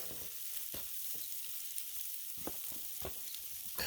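Pierogi and kielbasa fry on a Blackstone propane griddle, giving a faint, steady sizzle with occasional soft scrapes and taps of a spatula and no talking.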